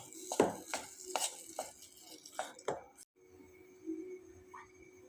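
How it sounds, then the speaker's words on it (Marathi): Spoon scraping and knocking through thick mutter vada batter in a bowl, a few irregular, close, moderately faint strokes, then a quieter pause with a soft final scrape. "आता परत छान मिक्स करून घेऊया।"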